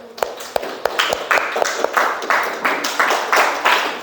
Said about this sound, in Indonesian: Tepuk tangan kasih belum?